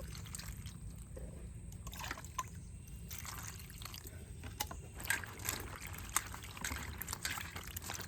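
Water trickling and splashing as cut okra is rinsed, a soft continuous wash with small drips and sloshes, close and fairly quiet.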